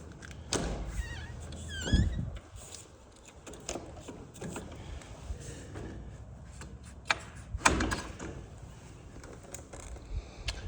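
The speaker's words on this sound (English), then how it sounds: "getting this door shut back up" A door on a double-door style frame being pushed shut during a walk-through of an empty house, giving a soft thunk and brief latch rattle amid quiet room noise and light shuffling.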